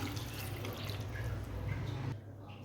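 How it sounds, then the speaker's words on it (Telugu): Water is poured into a pot of country chicken curry as it cooks, giving a steady rushing, splashing pour that runs for about two seconds and then eases off. "ఇప్పుడు ఇందులో కూరకు సరిపడగా వాటర్ అయితే యాడ్ చేస్తున్నా"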